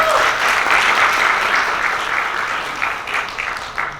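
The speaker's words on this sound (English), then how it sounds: "can I just get one more round of applause for Avani?" An audience applauding a performer at an arangetram, a dense sustained round of hand clapping from a crowd, loud and close at first and gradually thinning toward the end.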